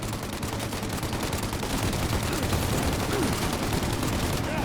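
An enemy turret hammers out sustained automatic gunfire in Mafia: Definitive Edition, a loud, dense and continuous stream of shots with no pause.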